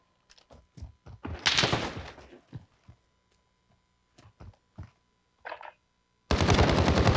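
Shooter video game gunfire: scattered single shots, a dense rapid burst, more isolated shots, then a sustained loud automatic volley at the end.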